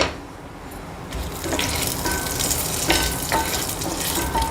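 Cinnamon, cloves and bay leaves crackle and sizzle in melted ghee in a pan, a steady close frying hiss with scattered pops and small stirring scrapes, no voices.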